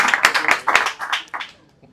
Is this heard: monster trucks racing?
no